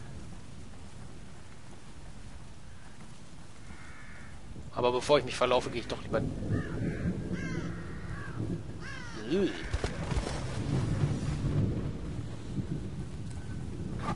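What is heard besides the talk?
thunderstorm with rain in The Evil Within video game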